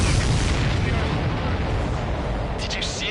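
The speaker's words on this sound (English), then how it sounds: "Did you see that explosion?" Explosion in the flight combat game Ace Combat 7: a loud, rumbling blast that fills the clip with heavy low-end roar and sustained crackling debris, with a brief higher burst near the end.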